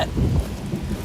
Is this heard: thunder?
yes